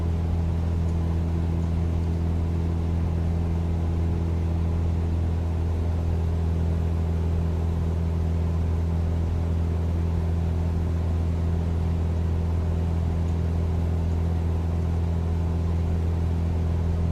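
Cessna 172 piston engine in Microsoft Flight Simulator 2024, a steady, loud droning hum with a constant low rumble and no change in pitch throughout, heard alone.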